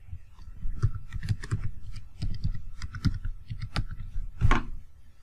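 Fingers type a password on a computer keyboard in irregular bursts of crisp, close key clicks and taps, with short pauses between runs and one firmer keystroke near the end.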